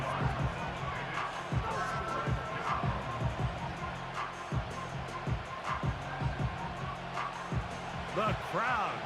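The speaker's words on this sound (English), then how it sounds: "The crowd making their presence felt." A stadium crowd roars steadily at an NFL football game, a dense wash of cheering and noise that swells in places, heard under a commentator's play-by-play talk.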